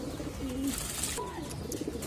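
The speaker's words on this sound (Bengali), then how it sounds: "লফটে মাশাল্লাহ এখন অনেক কবুতর হয়েছে" Pigeons in a loft coo softly and repeatedly nearby, several low rolling calls overlapping against a faint background hum, with no one talking.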